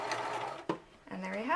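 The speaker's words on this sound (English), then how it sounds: "I'm going to stitch all the way to that double pin" A sewing machine stitches fabric for a cloth face mask, its rapid mechanical whir running close and steady, pausing briefly with a sharp clack, then starting up again while someone talks over it.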